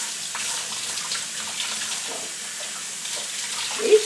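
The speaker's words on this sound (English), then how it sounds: "let me just give this a real good rinse" Tap water runs steadily from a faucet while a grocery-store Phalaenopsis orchid is rinsed during repotting from moss to bark, a soft continuous hiss and splash with a brief louder splash near the end, no talking.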